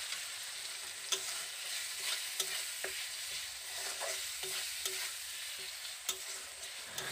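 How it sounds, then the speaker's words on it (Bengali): Spices with salt, turmeric and green chilli sauté in a pan, a soft continuous sizzle punctuated by sharp clicks of a spatula stirring against the metal, fairly quiet with no talk. "এবার সব কিছু একসাথে কষিয়ে নিচ্ছি।"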